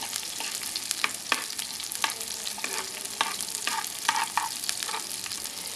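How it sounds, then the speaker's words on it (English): Onions sautéing in a pan for beef samosa filling, a steady close sizzle broken by repeated clicks and scrapes of stirring, with no talking. "Saute the onions on the side until soft."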